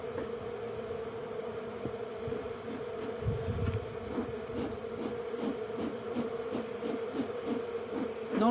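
Honeybees buzz in a dense, steady drone close by, with a few individual bees whining past and a brief soft thump partway through.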